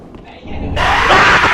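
A sudden loud enemy scream bursts in as a jump scare in the video game Dark Souls 3, jumping up sharply from a quieter murmur of game ambience and holding harsh and intense to the end.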